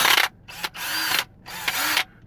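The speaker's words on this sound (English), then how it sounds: "This time I got my drill" A cordless drill whirs in three bursts of roughly half a second each, close and loud with clear stops between them and no talk.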